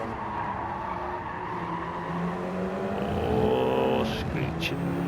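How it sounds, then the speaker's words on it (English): Race car engine drone in a racing video game, with tyres screeching into a rising squeal near the end as the car skids wide through a corner; a commentator talks over it. "Oh, screeching of tyres there."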